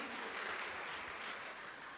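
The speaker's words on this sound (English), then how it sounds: "Let's give a round of applause, please." Audience applause rings out at a lecture event, steady and fairly dense clapping from a crowd, continuing for a couple of seconds with no talking.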